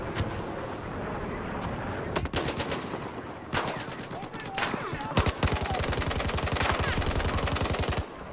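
Battlefield 4 gunfire crackles in rapid automatic bursts, with sharp single shots early on and long sustained rattling volleys later, loud and close throughout.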